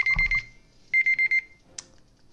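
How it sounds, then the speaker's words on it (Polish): An alarm clock rings in two short bursts of rapid beeping, separated by a brief pause, followed by a faint click. "Budzik zadzwonił"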